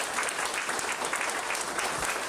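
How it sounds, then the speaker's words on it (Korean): Steady, fairly distant applause from the audience at a disability sports policy workshop in Korea, an even wash of many hands clapping with no break. "따뜻한 박수로 환영해 주시면 고맙습니다."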